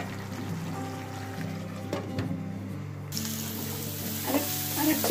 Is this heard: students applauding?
no